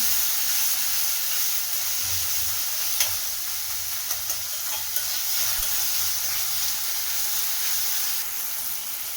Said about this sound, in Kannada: ಈಗ ನಾನು ಟೊಮೆಟೊನ ಹಾಕ್ಕೊಳ್ತಾ ಇದ್ದೀನಿ ಇದನ್ನು ಅಷ್ಟೇ ಒಂದು ನಿಮಿಷ ಈ ರೀತಿ ನೋಡಿ ಫ್ರೈ ಮಾಡ್ಕೊಳ್ತೀನಿ